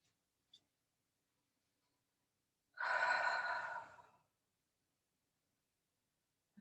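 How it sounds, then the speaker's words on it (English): One slow, deep breath during a gentle yoga session, lasting about a second and a half, soft and close, with silence before and after. "Close the eyes and take a few breaths here."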